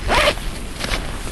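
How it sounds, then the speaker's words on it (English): A zipper runs down the door of an REI Passage 1 tent in one quick, close pull, followed by a shorter second zip. "Oh, you zip the door down."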